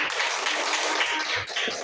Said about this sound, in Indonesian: Tepuk tangan kita buat.